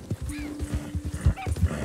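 A horse in the video game Red Dead Redemption 2 clops its hooves in a quick uneven rhythm and gives a short snort or whinny, close and moderately loud, with no voices.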